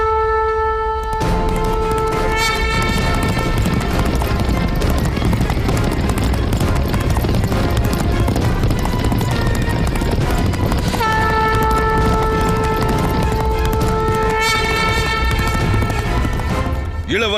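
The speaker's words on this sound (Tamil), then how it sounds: "குதிரைப்படை வீரர்களின் முதன்மை குழு உடனடியாக புறப்படட்டும்." Cavalry horses gallop in a battle scene of the Mahabharatham TV serial, a loud, dense, continuous rumble of hooves that runs throughout beneath sustained, swelling musical tones.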